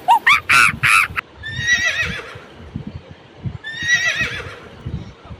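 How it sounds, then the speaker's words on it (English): A horse whinnies loudly in several shrill, quavering bursts, with a long descending neigh repeated after a pause, over soft clip-clopping hoofbeats close by. "horse"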